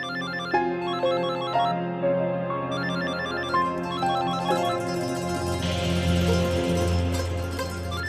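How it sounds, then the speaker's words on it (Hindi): A phone ringtone plays as a repeating electronic melody of bright tones over a soft music bed, steady and moderately loud with no talking. "हम हैं ना बेटा, उठाओ फोन।"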